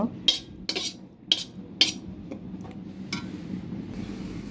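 A spatula scrapes and pushes cooked red amaranth greens aside in a pan, with four sharp metallic scrapes in the first two seconds followed by softer, lighter clatter.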